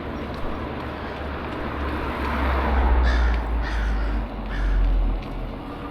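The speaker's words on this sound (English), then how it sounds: "Just me and the crows." Crows cawing on a quiet Sunday morning in industrial Orange, several harsh calls in the middle distance over a constant low rumble of traffic.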